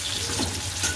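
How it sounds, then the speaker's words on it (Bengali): Meat frying in oil in a home kitchen pan, a steady close sizzle with faint watery crackle under a low hum, no talking. "তেলেতে দিয়ে দিয়েছি মাংসটা, এখন কষবে"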